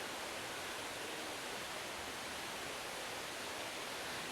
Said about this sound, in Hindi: फ़िलहाल तो मैं आपको यहाँ से वाटरफॉल दिखाता हूँ।